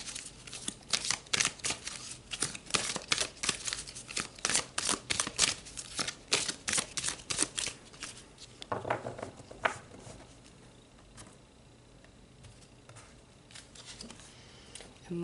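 Tarot cards are shuffled and pulled during a reading, giving a rapid run of crisp riffling snaps and papery flicks up close, then softer card handling that fades out.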